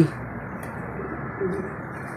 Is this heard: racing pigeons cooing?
yes